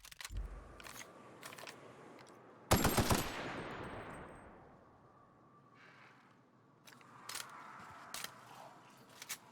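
Gunfire in the video game The Outer Worlds: a few brief sharp clicks, then one loud burst of shots that fades away, followed by quieter clicks and taps.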